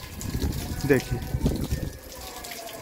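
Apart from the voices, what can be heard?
water flowing from a hose onto solar plates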